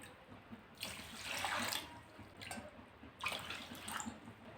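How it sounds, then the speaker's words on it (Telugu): Water poured into a kadai holding sugar for bakery-style Karachi halwa, with three bursts of splashing liquid separated by short pauses, close and moderately loud, and no talk. "ఇందులో 4 కప్పుల వాటర్ అనేది యాడ్ చేసేసుకోవాలి"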